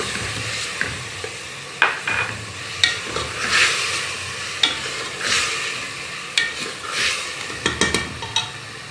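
Minced meat sizzles with onions in a pan while a spoon stirs and scrapes it repeatedly, with soft clinks against the pot.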